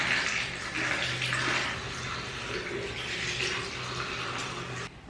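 Tap water runs steadily into a sink while a face and a Foreo Luna 3 cleansing device are rinsed, a continuous near splashing that stops abruptly at the end.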